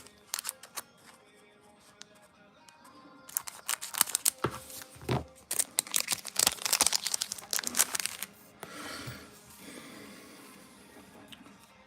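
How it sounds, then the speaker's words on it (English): Packaging being cut open with scissors, bursts of snipping and crinkling plastic clustered in uneven flurries, close and fairly loud, with quieter gaps between. "I might have to actually use a pair of scissors."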